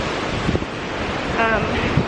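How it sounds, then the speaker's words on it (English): Strong wind roars steadily across the microphone, with surf washing in beneath it and no voices. "it's right by the shore, as you guys can see. It's extremely windy."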